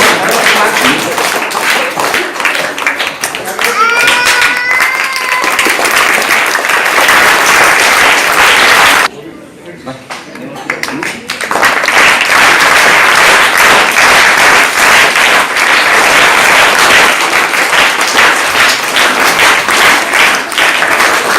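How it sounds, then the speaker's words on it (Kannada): A crowd applauds loudly at the inauguration of a free hospital health checkup camp in Bijapur, dense clapping that briefly drops away partway through and then surges back strongly. "ಎಲ್ಲರೂ ಚಪ್ಪಾಳೆ ಮೂಲಕ ಅವರನ್ನ"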